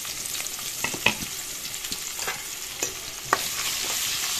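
Onions and green chillies fry in hot oil with a soft steady sizzle, broken by scattered crackles and the scrape of stirring, close and without talk.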